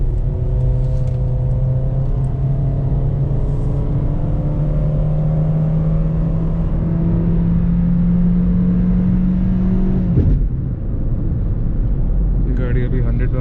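Honda City 2021 with a CVT gearbox accelerating while driving at around 100, its steady engine hum rising smoothly in pitch for about ten seconds before a sudden drop, loud and close throughout.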